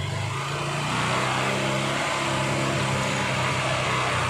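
A Honda Unicorn motorcycle engine is revved with the throttle, a close, steady mid-pitched drone that rises slightly after the first second and then holds.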